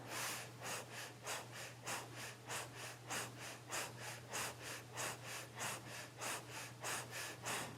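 Rapid rhythmic breath of fire from a person practicing Kundalini yoga, sharp forced exhales repeating steadily about twice per second, close and clear over a low steady hum.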